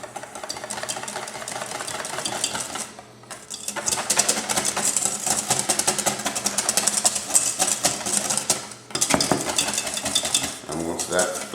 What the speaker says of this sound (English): So we're going to get that together and give that a good whisk